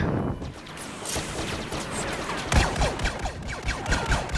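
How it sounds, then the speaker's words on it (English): Blaster cannon fire in a Star Wars Battlefront video game: rapid crackling bursts and sharp zapping shots with descending whines, repeated over steady battle noise. "wait, I have a blaster cannon? Yay! I love blaster cannons."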